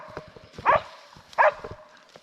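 Dogs herding a Kunekune boar pig on a farm bark twice in sharp close bursts, with soft thuds, shuffling and scuffing movement around them.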